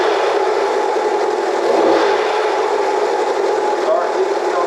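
A Honda CL175 motorcycle with a replaced muffler runs at a steady, fairly quiet idle, with a close, even whirring hum throughout and one slight rise around the middle.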